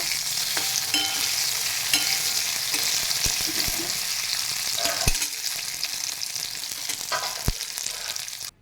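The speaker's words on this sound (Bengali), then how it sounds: "এগুলো একটু লাল লাল করে ভেজে নেব।" Ivy gourd (kundri) frying in a pan: a steady close sizzle with occasional stirring clicks and scrapes, ending abruptly.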